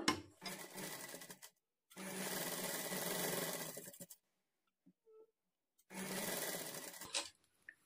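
A sewing machine stitching puff sleeves runs in three close, loud bursts of rapid mechanical whirring, separated by short quiet pauses while the fabric is adjusted.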